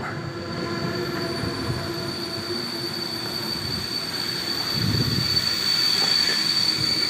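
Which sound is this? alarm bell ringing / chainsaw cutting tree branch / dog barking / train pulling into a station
train pulling into a station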